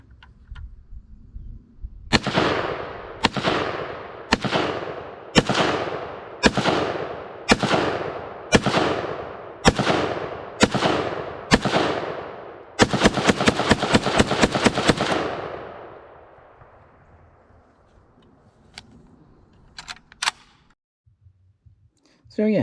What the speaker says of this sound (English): Now I'll let Tanner shoot his first AK ever, the Beryl.